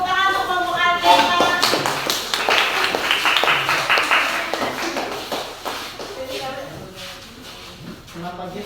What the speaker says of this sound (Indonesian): Tepuk tangan untuk kelompok Akena.